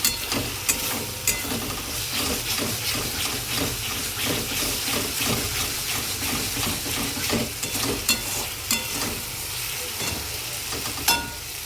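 Masala for a vegetarian paneer dish sizzles in a pan while a spoon scrapes and stirs it, giving a steady loud frying hiss broken by repeated clacks against the pan.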